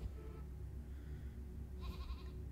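A sheep follower bleats in Cult of the Lamb, a short wavering animal cry near the end of the clip over a steady low game music bed, fairly quiet.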